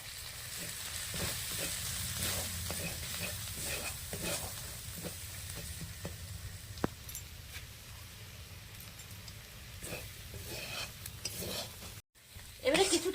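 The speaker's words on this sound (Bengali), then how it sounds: "পেঁয়াজ আদা রসুন টমেটো ভালো করে কষানো হয়ে গেছে" Onion, ginger, garlic and tomato sautéed with chili, turmeric and cumin powder in a pan give a steady low sizzle under scraping stirs, fairly quiet and continuous, then a short pause and a louder clatter at the end.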